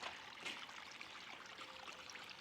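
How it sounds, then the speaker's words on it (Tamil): Water from a garden hose running onto a banana plant in a home garden, a soft, faint, continuous trickle and splash with no voices. "அப்படியே வாழைக்கு விட்டுருக்குறேன் தண்ணியை."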